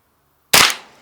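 A single sharp crack from a .22 rifle fired at a bulletproof Humvee windshield, loud and close, following a moment of silence and trailing off in a brief decaying echo.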